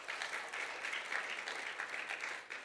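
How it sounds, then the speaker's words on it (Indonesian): Church congregation clapping for God during a sermon, a faint, steady patter of many hands applauding throughout. "Tepuk tangan untuk Tuhan."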